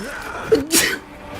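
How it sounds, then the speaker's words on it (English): A single quick sneeze, preceded by a short intake of breath, close and fairly loud over a faint background hum. "I had to sneeze really bad."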